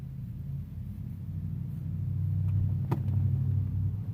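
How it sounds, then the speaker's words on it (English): A GMC truck rolls past on the road, a steady low engine rumble that swells gently and holds near, with no voices over it. "That is a really nice truck."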